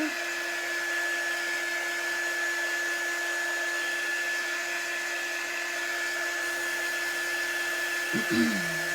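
A hair dryer blows steadily and loudly at close range to dry a painted craft board, its even whine holding for several seconds before a brief wobble near the end.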